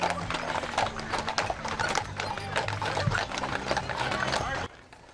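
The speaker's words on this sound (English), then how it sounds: "There they are, the Budweiser Clydesdales, and they're in Green Bay." Budweiser Clydesdale draft horses walk along a street in Green Bay, their heavy hooves clip-clopping in a steady, busy rhythm close by, with voices and background noise mixed in before the sound drops away at the end.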